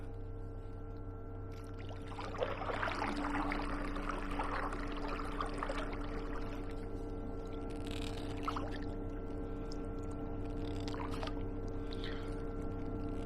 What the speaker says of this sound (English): Now I'm just using the paddle now on the left hand side only, just to steer.